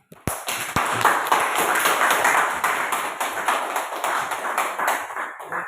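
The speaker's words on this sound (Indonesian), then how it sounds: "Dan kita tutup acara hari ini dengan tepuk tangan." Participants at a teachers' sharing forum clap together to close the session, a sharp start followed by steady, dense group clapping that holds fairly loud and even, easing slightly before ending.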